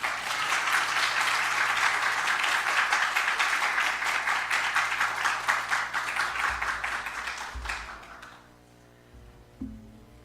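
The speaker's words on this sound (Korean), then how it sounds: "나올 때 우리 격려의 박수 한번 드렸으면 좋겠습니다" A church congregation at Sunday worship gives a round of encouraging applause for a guest preacher, steady dense clapping that fades out near the end, followed by quiet room tone.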